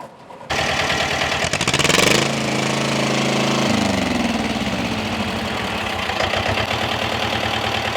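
A Bolat FM 25 engine runs loud and close, kicking in abruptly, climbing briefly into a rev, then dropping back to a steady, rough, knocking idle, without speech.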